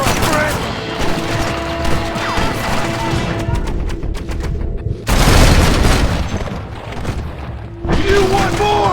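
Gunfire from the Western video game Red Dead Redemption: loud bursts and booming shots in two dense volleys, the second starting sharply midway, with music and voices mixed underneath.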